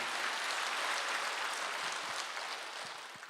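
A church congregation at a Wednesday worship service claps together, a dense continuous wash of hands that stays loud and then tapers slightly toward the end.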